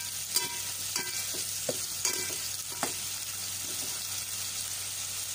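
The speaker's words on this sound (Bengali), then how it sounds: "ইচা মাছগুলো আমি পেঁয়াজটার সাথে মিশিয়ে নিচ্ছি।" Small shrimp being stirred and fried with onions in a pan, a steady sizzle broken by several sharp scrapes and clinks of the spoon against the pan, close and clear with no talking.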